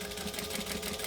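Brief, steady whir of a sewing machine running a short back stitch on a sewing project, close and continuous with a fast even rhythm.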